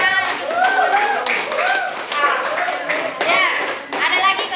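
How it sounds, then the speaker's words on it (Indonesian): A student group receives applause in a classroom: several bursts of hand clapping, loud and close, mixed with children's voices and chatter throughout. "beri tepuk tangan untuk"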